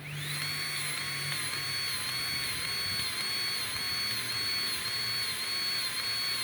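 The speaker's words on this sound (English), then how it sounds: "red Milwaukee automatic grease gun, because sometimes you don't want to pump your arm too much up" A red Milwaukee automatic grease gun runs continuously while pumping grease into a Ditch Witch SK755 track tensioner, a steady high motor whine with slight pulsing, close and alone.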